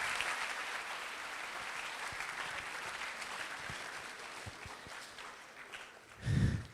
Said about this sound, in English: give a round of applause for your teachers